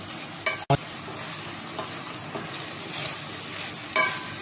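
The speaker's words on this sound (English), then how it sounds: "I fry it more until onions become softer" Onions frying in a pan for bhindi masala, a steady soft sizzle throughout with a sharp utensil knock near the start and light stirring scrapes, no voices.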